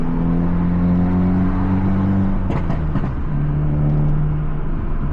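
Crackling exhaust pops and a burble from a car being driven with the windows down and the AC running, a short burst of sharp pops over a steady engine drone and road rumble.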